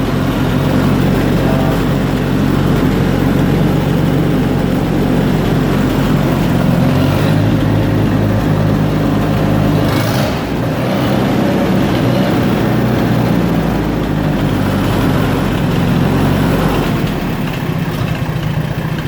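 An Allis Chalmers D15 tractor engine idles low inside a barn. The idle is loud, close and continuous, with no one talking over it.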